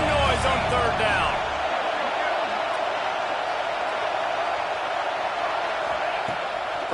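A packed football stadium crowd roars on third down, a loud sustained wash of noise that swells at the start and holds steady throughout.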